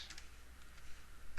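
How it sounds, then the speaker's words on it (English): Several quick key clicks on a computer keyboard as numbers are entered for a math problem, a short burst near the start and another at the end, close and fairly quiet. "Typing that in, I got negative 3."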